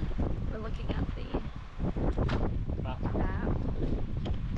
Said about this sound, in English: Dingo Beach is windy.